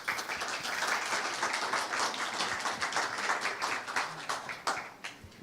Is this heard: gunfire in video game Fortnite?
no